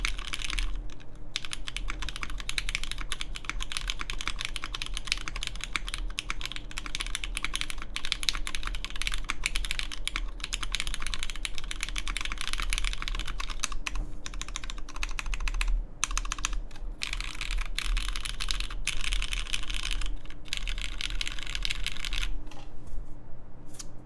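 Continuous fast typing on a Rae Adamas 65% mechanical keyboard, dense clacking keystrokes close up with a few short pauses, heard alone.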